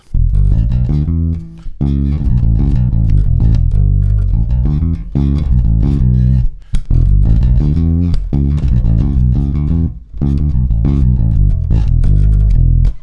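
A bass guitar plays a run of deep, plucked notes up and down a Dorian scale, steady and loud, with brief pauses between phrases.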